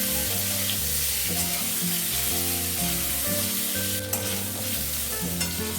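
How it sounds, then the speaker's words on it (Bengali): Salted potato pieces fry and sizzle steadily in a pan while being stirred for aloo dum, with a constant tonal hum underneath. "আলুগুলো হালকা হালকা ভাজা হয়ে গেছে"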